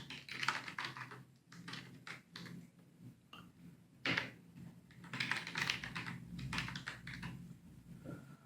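Quick, irregular clicking of fingers typing a password on a computer keyboard, close and fairly quiet, in bursts with short pauses and one sharper tap midway.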